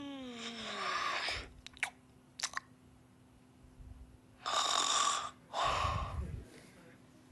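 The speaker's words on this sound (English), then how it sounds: "He snores." A toy robot for very young children plays a snoring sound: two loud, breathy snore bursts near the end, after a quieter stretch with a soft electronic tone and a few clicks.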